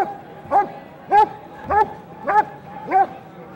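A dog barks five times at a steady, evenly spaced pace, close and loud, with a faint whine running underneath, during KNPV police dog obedience and bitework trials.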